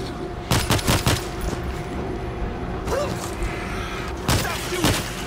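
Gunfire in the zombie shooter video game World War Z, with short clusters of sharp rapid shots separated by pauses, over a steady backdrop of game noise.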